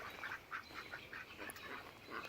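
A group of ducks quacks repeatedly nearby, a steady run of overlapping nasal calls under faint background noise.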